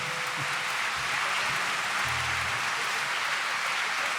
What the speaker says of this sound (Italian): Se vi è piaciuto fate un bel applauso